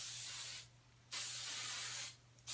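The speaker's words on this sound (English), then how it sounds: "Go in with this spray." Hair spray hisses out of a can in three bursts, two long and one short, close and fairly quiet, while styling a sleek pixie cut, with steady background hum between the bursts.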